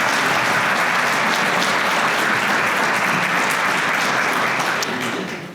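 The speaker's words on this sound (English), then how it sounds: "So let's give them a round of applause." An audience at an outdoor nature center celebration gives a loud, dense round of applause, steady many-handed clapping held for several seconds before tapering off at the end.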